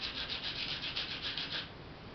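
Sandpaper rubs an eggshell in quick, regular back-and-forth strokes, a soft, close scratchy rasp repeated about a dozen times before easing into quieter rubbing.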